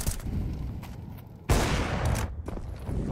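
Rapid bursts of gunfire from a Counter-Strike 2 match on the Vertigo map rattle close by, with a heavy loud volley partway through followed by continued shots and faint footsteps.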